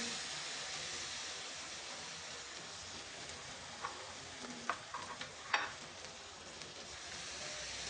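Beef sizzles in melted fat in a pan while Bengali beef jhoora cooks, giving a soft, steady frying hiss with a few sharp pops and stirring clicks in the middle stretch.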